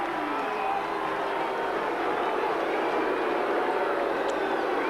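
A large football crowd at an AFL match between the Adelaide Crows and Sydney Swans reacts with a steady, broad roar of disapproval after a 50-metre penalty. The noise stays even and unbroken throughout, with no voices standing out.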